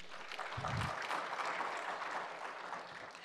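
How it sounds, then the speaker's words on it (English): Applause from a conference audience at a land policy gathering in Africa, a steady wash of clapping that holds throughout at moderate, somewhat distant level, with a brief low thump near the start. "Another hand clap for Her Excellency."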